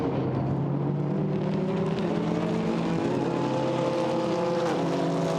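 GT4 race cars powering through the chicane at Paul Ricard, engines droning loud and continuous with shifting, overlapping pitches as several cars pass in close succession.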